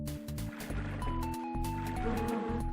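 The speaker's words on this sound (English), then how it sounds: "So what if I pour some water on it?" Water is poured onto hot embers in The Legend of Kyrandia Book Two: The Hand of Fate, a PC adventure game, giving a gurgling, splashing liquid sound over steady game music and tones.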